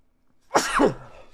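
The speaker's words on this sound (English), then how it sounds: "Ooh, like I got sneeze." A single loud sneeze from an adult, close and sharp, with a brief breathy buildup before it and a trailing tail after, otherwise quiet.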